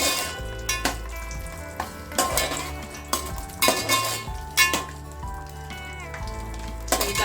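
Cashews frying in a pan for dry fruit laddu, a low steady sizzle broken by repeated clinks and scrapes of a spoon against the pan, close and moderately loud.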